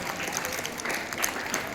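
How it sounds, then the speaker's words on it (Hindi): Children clap together at a school gathering in Jabalpur, a dense, steady patter of applause that runs the whole time at moderate loudness. "प्लीज बच्चों तालियां"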